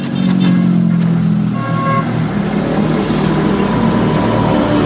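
Road traffic heard from inside a truck on Araneta Avenue, a loud continuous engine drone with low rumble and a brief horn toot early on, the noise close and steady throughout.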